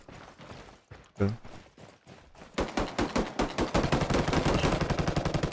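Rapid bursts of automatic gunfire from the PC shooter Ghost Recon Wildlands in Ghost War PvP mode: a few scattered shots, then a dense, loud, steady rattle of repeated rounds filling the second half.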